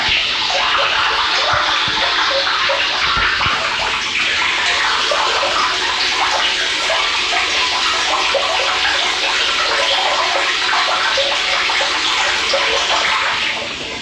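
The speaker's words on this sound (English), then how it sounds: "it's going to take a little bit to fill this tank up" Water rushes steadily into a tank through a float valve in a household plumbing setup, a loud, continuous hiss and splash that holds constant for the whole stretch before easing slightly at the end.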